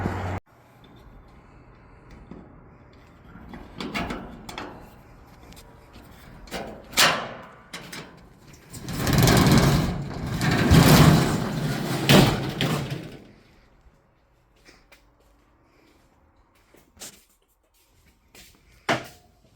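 A garage door being opened, with scattered thuds and knocks followed by a louder rolling rumble of the door moving that lasts a few seconds, then quieter clicks and a final knock.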